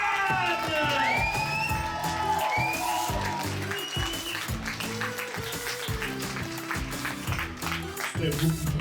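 A comedy night audience claps and cheers for a comedian, with loud dense applause and whoops under a rhythmic music bed, and a voice shouting over the noise.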